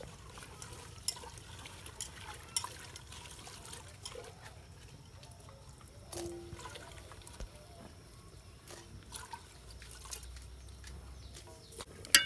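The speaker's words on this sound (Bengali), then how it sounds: "ফুলকপি কুটা শেষ এখন আমি ধুয়ে নিতেছি" Cut cauliflower is washed in water, heard as faint trickling, splashing and dripping with occasional light clinks and bumps, quiet and close throughout.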